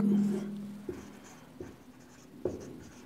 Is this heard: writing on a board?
yes